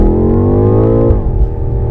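BMW M5 with a 600-horsepower twin-turbo V8 pulling hard in automatic, engine note climbing steadily in pitch before a brief upshift dip, loud and close from inside the car.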